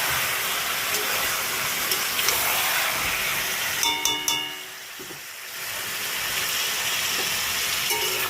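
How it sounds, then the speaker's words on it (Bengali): Chicken meat fries in a pan with a loud, continuous close sizzle, briefly interrupted by a few metallic clinks and a dip in intensity before the hissing builds back up. "আগে আমি মাংসটা একদম একটু লাল লাল করে ভেজে নেব"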